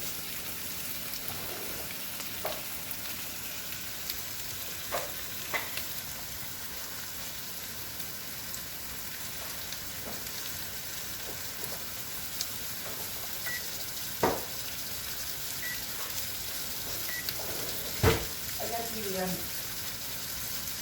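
A ribeye steak simmers in a pan with a faint, steady sizzle. Scattered soft pops and clicks sound throughout.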